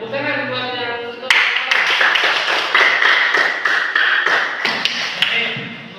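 Classroom applause after a student presentation, a sudden burst of many hands clapping close and steady for several seconds after a brief stretch of talk.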